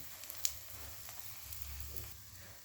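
Batter spooned onto a hot tawa griddle fries with a soft, steady sizzle, punctuated by a few faint ticks and pops, close by and without speech.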